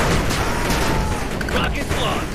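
Units opening fire in 8 Bit Armies, a dense continuous clatter of gunfire and rumbling blasts, loud and unbroken, with a voice speaking over it.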